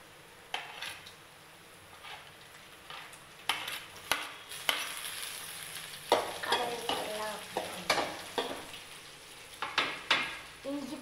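Onion, curry leaves and chilies frying in a pan, with steady sizzling and repeated stirring scrapes and clinks of a utensil against the pan, close and moderately loud.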